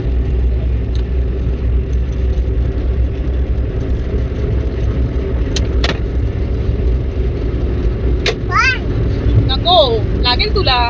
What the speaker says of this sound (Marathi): गाडी गेली का? गाडी बघितली तू?